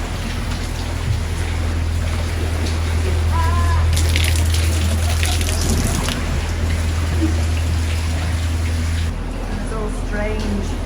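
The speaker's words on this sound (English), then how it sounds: "There's a lot of water falling down." Water pours and drips from the ceiling inside a long canal tunnel, a steady splashing rush heard from a boat with a low engine hum underneath and a louder burst of falling water partway through.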